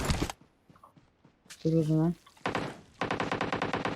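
Automatic gunfire in PUBG Mobile on the Livik map: a sharp burst opens the moment, a brief voice follows, then a loud, rapid, steady string of shots runs to the end.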